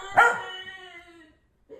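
A dog from an anime scene lets out one sharp, loud bark, its harmonic tail fading over about a second, followed by a brief faint sound near the end.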